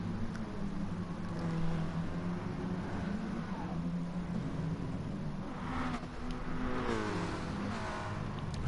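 Race car engines drone and rev in the VW Scirocco racing game at Interlagos, several cars blending into a continuous mid-level roar with rising whines near the end, no voices over them.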